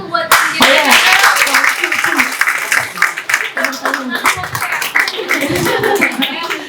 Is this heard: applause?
yes